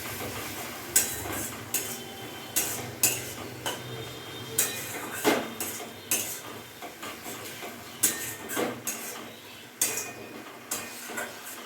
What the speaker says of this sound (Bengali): এখন আমি ভালোভাবে কষবো, মশলাটার সাথে শিম আঁচ করে দেবো।